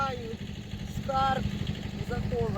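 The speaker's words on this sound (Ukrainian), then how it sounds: "Нащо я тим трактором копаю?" A tractor engine rumbles steadily while digging potatoes, loud and close, and someone talks over it throughout.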